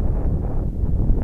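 Strong wind buffets the microphone outdoors while a small brushless model plane flies, making a loud, steady, low rumbling roar that fills the whole brief moment.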